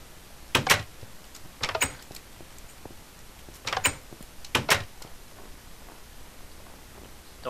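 Several short clicking, mechanical bursts in small clusters, like game doors sliding open, over a quiet background with no talking.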